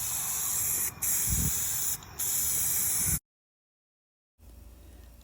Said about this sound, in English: I put that final coat of black spray paint on it